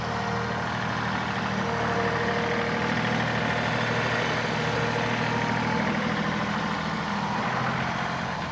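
A compact tractor rolls slowly over freshly spread slag to pack it down, its engine running at a steady low idle-like drone throughout, close and continuous with no talk.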